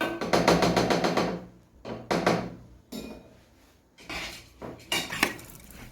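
A spoon mixes rice with sugar and salt in a bowl, giving bursts of close, clattering scraping and knocking against the bowl that come and go over a few seconds.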